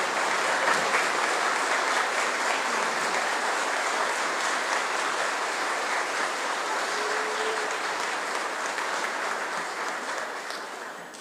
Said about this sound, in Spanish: de pie nuestro aplauso y nuestra felicitación